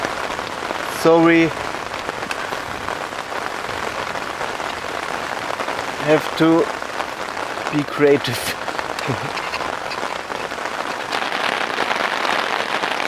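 Steady rain falls on a tent or tarp during a wet-weather hike in Børgefjell, Norway, a constant hiss of drops under the scene, with a person briefly talking at a few moments.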